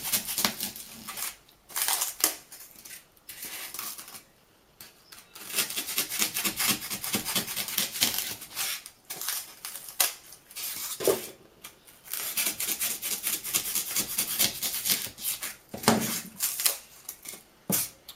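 Pieces are cut one by one in a series of soft, crisp snipping and scraping strokes that come in uneven clusters with brief gaps, quiet and close.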